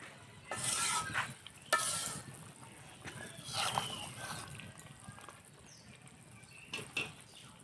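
Fish cooking in a pan in a home kitchen, faint sizzling with scraping, stirring and clinking of utensils against the pan, in quiet bursts with a little talk nearby.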